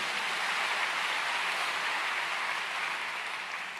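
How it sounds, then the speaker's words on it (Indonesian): A church congregation gives steady, dense applause for Jesus, a soft, even wash of many hands clapping that fades slightly at the end. "Tepuk tangan untuk Tuhan Yesus"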